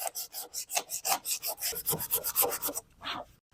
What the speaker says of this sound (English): we're just going to sand these fades out and get all the little chunks